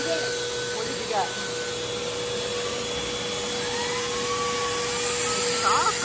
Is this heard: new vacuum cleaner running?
yes